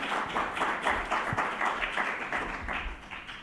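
Audience applause after a talk at a panel session on integral ecology, a dense steady wash of many hands clapping at moderate distance, continuing evenly throughout without speech.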